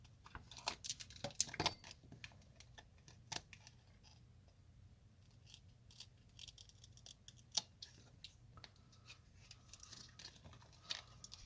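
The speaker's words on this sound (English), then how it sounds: "So we'll just cut this out." Scissors snipping through a thin piece of film for a green Casio World Time watch display, a faint, close series of irregular small cuts and crinkles with quiet gaps between them.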